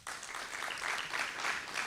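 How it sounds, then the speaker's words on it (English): Applause from a youth parliament audience, a dense wash of clapping that holds steady at moderate volume and sounds a little distant. "So I want you guys to give yourselves a round of applause."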